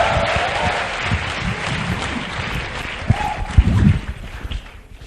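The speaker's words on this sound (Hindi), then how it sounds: "तालियां बजा दीजिए।" A crowd claps steadily, with a few louder thumps and brief voices near the end before the applause fades out.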